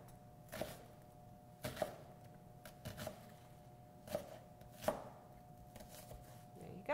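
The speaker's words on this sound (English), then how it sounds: "And I just cut them into strips right here and then just into small cubes." A kitchen knife chops onion into small cubes on a board, a series of crisp, separate knocks spaced about a second apart, close and fairly quiet with no talking.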